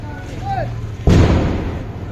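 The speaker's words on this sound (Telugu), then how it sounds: "దాంట్లో రాకెట్స్, హైడ్రోజన్ బాంబ్స్ ఉన్నాయి." Firecracker rockets and bombs bursting inside a Narakasura effigy during a festival burning, one sharp heavy boom at about the midpoint with a lingering rumble, preceded by a whistling rocket and crowd voices.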